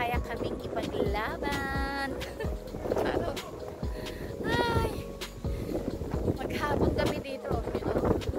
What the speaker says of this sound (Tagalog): lumamig super kasi ang lakas ng hangin